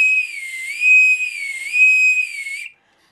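A small whistle is blown steadily while being bent back and forth, its shrill tone wavering up and down in pitch for nearly three seconds, close and loud, then stopping abruptly.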